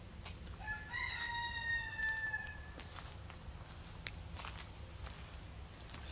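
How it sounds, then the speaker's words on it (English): A rooster crows once in the distance, its call rising and then trailing off, heard outdoors beside an idling car engine with faint footsteps and rustling around it. "Sounds like the rooster likes it too."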